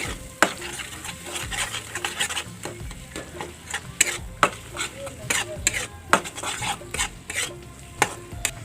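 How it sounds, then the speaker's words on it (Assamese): Fish frying in a pan with turmeric and salt, stirred by a utensil that scrapes and clinks in a steady, irregular rhythm over a constant close sizzle, with no talk. "নিমখ হালধিখিনি দিয়াৰ পিছত মই আৰু ধুনীয়া কৰি মই ভাজি ল'ম"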